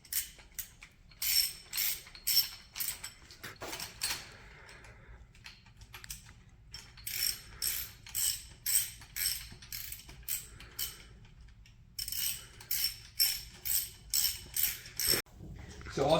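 Hand ratchet tightening rocker arm bolts on a 318 engine, heard as bursts of rapid clicking strokes that pause and resume, close up and moderately loud with no talking.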